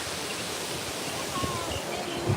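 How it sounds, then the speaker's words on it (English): Water flows under a bridge at Disney's Wilderness Lodge, a steady broadband rush and hiss that holds evenly throughout, with faint voices underneath. "the water goes under this bridge."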